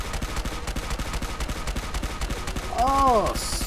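Rapid gunfire from a pocket rocket pistol in Fallout 4, a steady run of sharp evenly spaced shots followed by a loud whooshing, swooping burst near the end, with no one talking.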